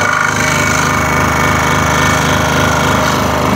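A saw blade cuts through a wooden workpiece that is fed slowly and rotated, giving a loud, steady mechanical drone with a rapid buzzing pulse that runs throughout without a break.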